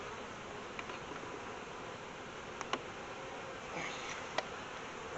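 Honey bees buzz steadily in a low, even drone while hives are being transferred, with a few faint knocks and rustles of frames and boxes sounding close by.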